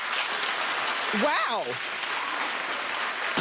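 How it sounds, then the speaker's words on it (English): A talk show studio audience claps loudly and continuously, a dense steady roar of hands under the host's brief exclamation. "Clap if you're with me."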